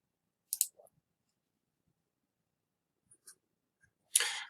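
Computer mouse clicks during a spreadsheet task, a few sharp isolated clicks spread across a quiet stretch, with a louder double click near the end.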